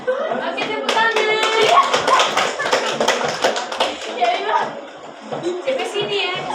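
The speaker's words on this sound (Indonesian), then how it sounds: "Oke, tepuk tangan." A group of people clap their hands together in a classroom, a dense burst of claps mixed with voices and chatter, steady for several seconds and tapering slightly near the end.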